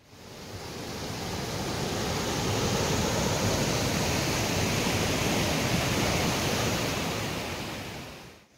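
Gandahati waterfall in the Eastern Ghats hills of Srikakulam, a dense, steady rushing roar of falling water that swells in and holds evenly, close and broadband, with no voices.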